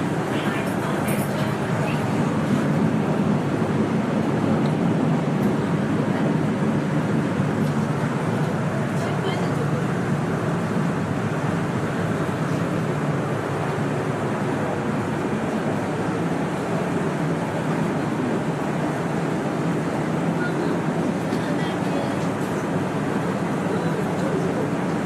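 Steady, dense rumble and hiss inside a Fuxing high-speed train cabin at speed, continuous and even for the whole stretch with no distinct events.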